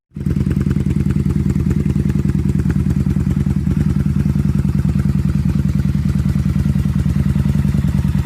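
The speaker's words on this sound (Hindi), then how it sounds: "एक बाइक जो मैं चाह रहा हूं उसका आपको साउंड सुना के देता हूं" A motorcycle engine starts up and idles loud and close with a steady, rapid, thumping beat that holds evenly for several seconds.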